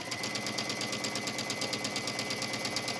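A sewing machine stitches a seam in cork fabric, a steady fast mechanical chatter with an even rhythm, close and continuous.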